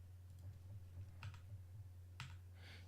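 A few quiet, scattered keystrokes tap on a computer keyboard over a low electrical hum, with no one speaking.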